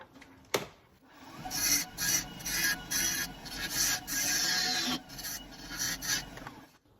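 A wood lathe turning an apple box, with a tool scraping and rasping against the spinning wood in repeated short strokes, bright and fairly close, separated by brief pauses, after a sharp knock at the start.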